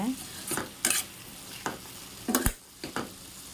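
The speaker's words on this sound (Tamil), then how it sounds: "இதையும் கொஞ்சம் நல்லா வதக்கிக்கோங்க இதோட ஸ்மெல் போகிற அளவுக்கு கொஞ்சம் நல்லா கிண்டி விட்டுக்கோங்க" Ground coconut paste is stir-fried with kohlrabi in a pan, a quiet bed of frying with a handful of short spatula scrapes and stirs at irregular intervals.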